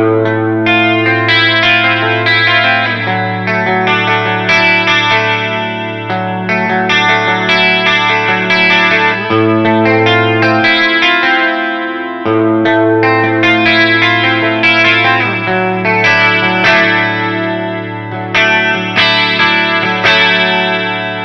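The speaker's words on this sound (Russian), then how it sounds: "пора уже послушать, как звучит наша замечательная гитара. Давайте начнем с чистого звука." A Gibson Les Paul Traditional electric guitar played on a clean channel, strummed chords and picked notes ringing out steadily with some chorus-like shimmer, loud and continuous with brief pauses, no voices.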